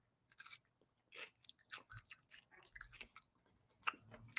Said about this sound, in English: let's go ahead and eat one of these peppers real quick